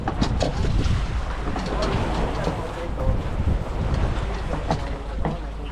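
Strong wind buffets a small outrigger fishing boat at sea, a steady loud roar of gusts and microphone wind noise over splashing water and churning waves throughout.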